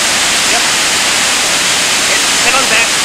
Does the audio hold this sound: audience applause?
no